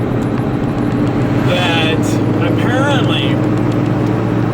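Truck cab on the drive home, filled with a loud, constant low engine drone and road rumble while someone talks over it.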